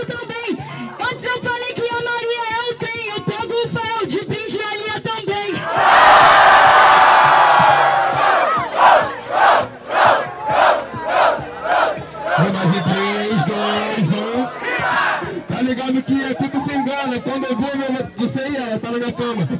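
Crowd at a Brazilian freestyle rap battle erupting into loud cheering and shouted chants, with rhythmic call-and-response surges between stretches of amplified rapping over a beat.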